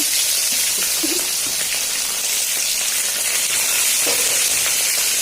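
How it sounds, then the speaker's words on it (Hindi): Fish pieces deep frying in hot oil for a mustard fish curry, a loud, continuous hissing sizzle with faint crackles and a few soft stirring sounds, no talking. "अभी डीप फ्राई होते हैं"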